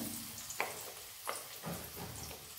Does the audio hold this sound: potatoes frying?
yes